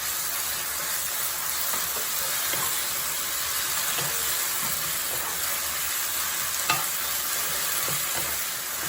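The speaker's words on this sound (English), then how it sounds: "So we wanna saute everything until the onions become translucent." Onions and salty Taiwanese doubanjiang-style paste sauté in a pan for beef noodle soup, giving a continuous close sizzle with light spatula scrapes and stirring throughout.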